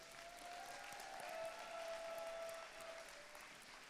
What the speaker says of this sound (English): Everyone, round of applause for everyone.